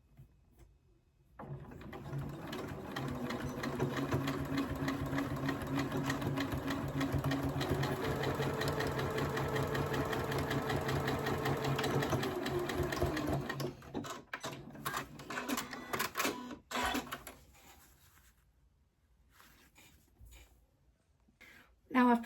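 Close up, a sewing machine stitches handles for a boho bag in one long continuous run, then stops, followed by intermittent handling noises and soft talk.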